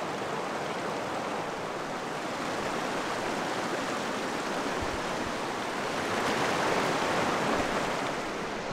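A mountain river on a trek to the K2 viewpoint rushes steadily nearby, a dense, constant roar of flowing water that swells slightly toward the end, with no voices.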